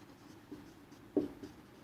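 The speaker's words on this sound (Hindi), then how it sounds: "तो अब यह लिखेंगे" Pen or chalk scratches faintly on paper or a board, soft intermittent strokes with one slightly louder mark, in a quiet room with no talking.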